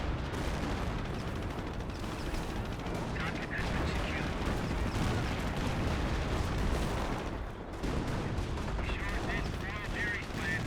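Dense, continuous artillery and gunfire battle sounds in the World War II strategy video game Company of Heroes, with repeated booms and shots layered into a steady loud roar that dips briefly near the end.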